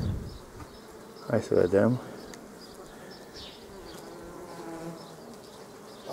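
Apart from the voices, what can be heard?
honeybees buzzing during beehive inspection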